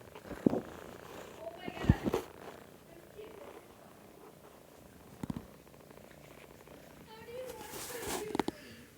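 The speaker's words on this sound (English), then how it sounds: "can you hear him purr?" Soft, steady kitten purring close by, continuous throughout, broken by a few brief bumps and rustles.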